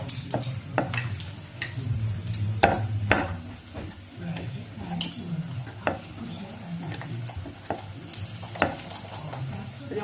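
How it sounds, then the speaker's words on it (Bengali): Luchi, Bengali deep-fried bread, frying in hot oil with a steady crackling sizzle, punctuated by frequent sharp clinks and scrapes of a utensil against the pan at close range. "এখন এই যে লুচি বানাবো, তারপরে আমিও খাবো।"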